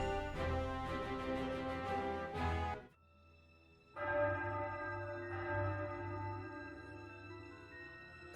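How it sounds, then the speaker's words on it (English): In Triangle Strategy, the Ironstone bell tolls at midnight: two resonant, ringing strikes separated by a brief near-silent gap, each leaving a long sustained hum under other tones, at moderate loudness. "That's the bell at Ironstone. It's midnight."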